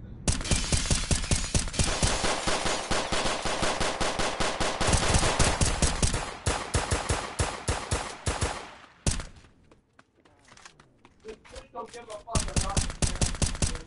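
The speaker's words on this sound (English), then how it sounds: "That's us shooting." Video game gunfire: dense, loud rapid-fire bursts pounding almost continuously, a brief lull with scattered sounds, then another sustained barrage.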